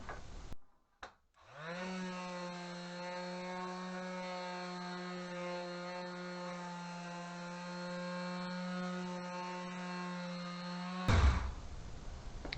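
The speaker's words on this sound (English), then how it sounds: "I'll get the orbital sander out on it, sand it down, clean it up a bit" A small mouse-style detail sander spins up and runs with a steady, close, buzzing drone while sanding a wooden shelf for a toolbox drawer, then cuts off with a brief clatter at the end.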